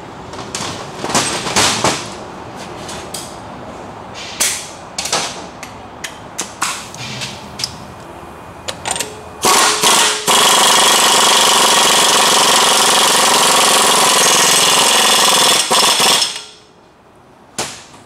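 An impact wrench hammers down an axle nut on a Dodge Ram front wheel hub: several short rattling bursts, then a long loud sustained run of rapid hammering that cuts off abruptly, close and loud.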